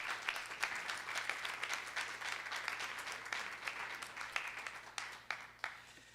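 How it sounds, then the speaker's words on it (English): Applause for high school student performers at a board of education meeting, moderate clapping from a modest crowd that thins out toward the end into scattered individual claps. "So can we just give them another round of applause,"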